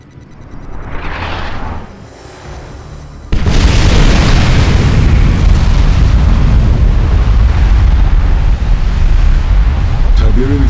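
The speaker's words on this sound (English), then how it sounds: "Allied nuclear missile launched." A nuclear missile launch and detonation in the Command & Conquer Kane's Wrath strategy game: a rising whoosh, then a sudden massive boom that rumbles on loudly for several seconds.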